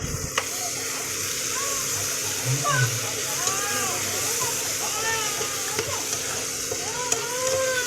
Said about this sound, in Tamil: கொஞ்ச நேரம் தக்காளியும் நல்லா வாதம் கட்டும்